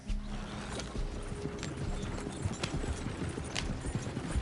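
Galloping horse hooves in the video game Red Dead Redemption 2: rapid, continuous clip-clop beats that stay loud and close throughout, over a dense rumbling bed.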